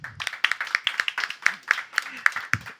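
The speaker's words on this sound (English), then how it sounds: "A round of applause for our panelists" Clapping for the panelists at the close of a panel discussion on nutrition, gender and climate: a modest room's scattered hand claps in a loose, uneven rhythm, fairly close, with a few louder individual claps.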